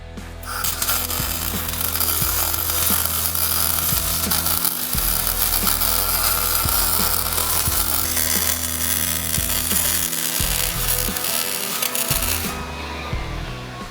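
Wire-feed welding with shielding gas runs as a steady, loud crackling buzz for about twelve seconds, then cuts off abruptly near the end.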